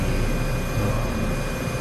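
Steady, even engine drone of a detailed helicopter in Microsoft Flight Simulator 2024, a constant broadband whine with a thin high tone running unchanged throughout.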